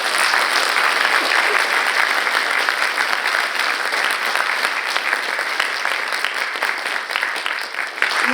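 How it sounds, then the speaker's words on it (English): Sustained applause from a large audience at a poetry reading, a dense, steady clatter of clapping that continues at full strength and only eases slightly at the end. "Let's give them another big round of applause."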